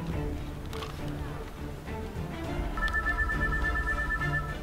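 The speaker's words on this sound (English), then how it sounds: "Is that a phone? It's not my phone. Guys, can you hear some sort of ringing?" A phone rings faintly in the background during an outdoor scene, a high repeating electronic tone that begins partway through, under ambient noise and some movement.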